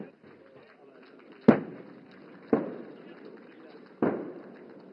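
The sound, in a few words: distant artillery guns firing at targets in military exercise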